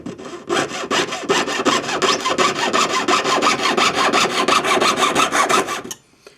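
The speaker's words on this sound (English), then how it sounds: "So we'll saw this" Twisted square metal wire for a bangle sawn by hand against a bench peg: loud, close, rapid back-and-forth rasping strokes in a steady rhythm, stopping abruptly near the end.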